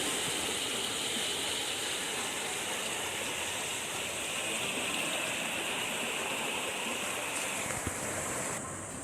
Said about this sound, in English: so this is the War Spur branch of some stream